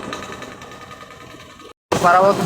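The passenger launch Barabat 12, crowded with Eid travellers, nears the ghat with its diesel engine chugging in a steady, rapid knocking rhythm. After a brief cut, a voice speaks over the background.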